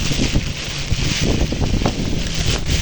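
Strong wind roars and buffets the microphone continuously, a loud rushing noise with gusty fluctuations throughout, during a cyclone with heavy rain at Thondaimanaru.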